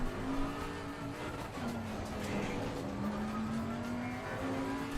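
A race car engine in the racing game Assetto Corsa Competizione drones at a steady, fairly loud pitch through repeated gear changes, with faint tire and track noise beneath and no talking.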